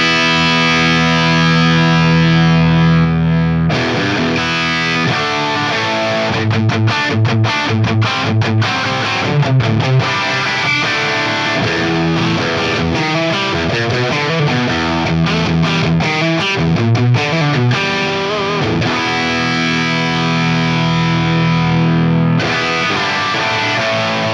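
Distorted electric guitar through a Fractal AX8 stock amp model with its post-phase-inverter master volume at 7, playing a loud, sustained riff of chords and single notes for about twenty seconds, with short quiet gaps near the start and end.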